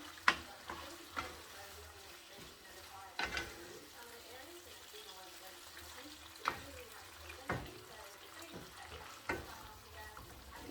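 Ground meat with pepper browning in a single skillet for Korean sloppy joes, a low steady sizzle broken by scattered sharp scrapes and taps as a utensil breaks the meat up, close.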